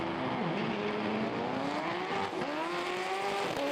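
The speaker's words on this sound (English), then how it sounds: "Wendell brought the Civic back round for one last run" A front-wheel-drive Honda Civic drag car makes a full-throttle pass at Santa Pod Raceway, its engine note climbing steadily through the gears, loud and continuous, with no talking.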